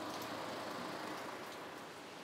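Steady rain falls outdoors around a parked 2013 JDM Subaru WRX STI, a faint, even hiss with no talk.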